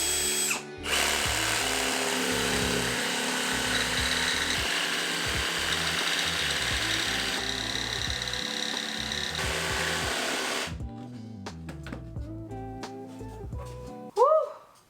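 A scroll saw cuts through MDF with a loud, continuous buzzing rasp for about ten seconds, then stops, leaving quieter handling knocks and a brief sharp noise at the end.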